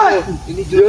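A voice imitates mating goats with a wavering, bleating cry, loud and close, lasting about a second.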